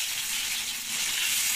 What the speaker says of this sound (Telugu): మనకు గోల్డ్ కలర్ వచ్చే వరకు ఇటు సైడు తిరిగేసుకుంటూ మనము బాగా వేయించుకోవాలి